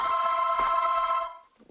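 A telephone rings during an online webinar: one sustained, bright electronic ring lasting over a second before it fades out, heard alone and fairly close.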